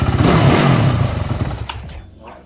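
A motorcycle is started with its electric starter. The engine catches with a loud, rough roar up close, then settles and drops away within a couple of seconds.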